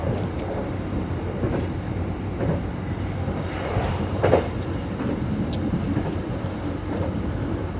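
Steady rumble and rattle of the Gajayana passenger train rolling along rails, heard from inside the cabin, continuous and fairly loud, with a brief louder clank partway through.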